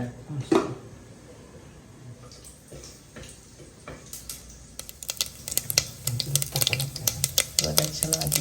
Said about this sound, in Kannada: ಚಟಪಟ ಅಂತ ಸಿಡಿಯೋದಕ್ಕೆ ಸ್ಟಾರ್ಟ್ ಆಗಿದೆ